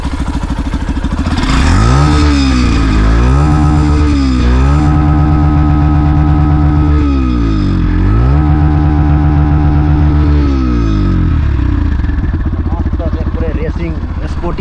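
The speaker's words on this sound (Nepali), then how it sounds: "स्पोर्टी बाइक जस्तो साउन्ड पनि छ, इन्जन साउन्ड पनि सुन्न सक्नुहुन्छ तपाईँ, पुरै स्मुथ छ" A Yamaha FZS V3 Hybrid motorcycle engine revs up and down in repeated sweeps, holding a steady loud idle between throttle blips, close to the microphone throughout.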